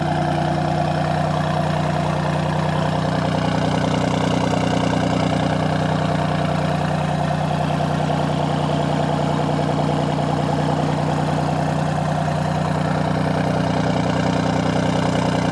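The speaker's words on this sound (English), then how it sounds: "I just want to hear the exhaust here. It sounds so good when you have it in dynamic mode." A 2024 Alfa Romeo Giulia Quadrifoglio idles in dynamic mode, its exhaust giving a steady, deep, throbbing rumble that stays loud and even throughout, close by and alone.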